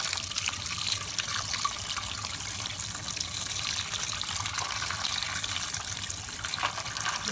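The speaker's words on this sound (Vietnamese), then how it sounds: "Sau khi bóc phần mình sẽ rửa sạch đấy." A tap runs steadily into a sink while freshly shelled crab meat is rinsed clean, giving a continuous close hiss of splashing water with no talking.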